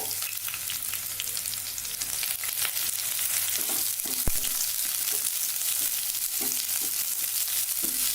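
Sliced onion frying in a pan for a cauliflower kurma, with a steady close sizzle and occasional stirring clicks, no voices.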